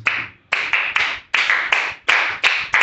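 Loud clapping from a Pentecostal church congregation comes as a run of sharp, closely spaced claps in a quick, uneven rhythm, up close and with no talking.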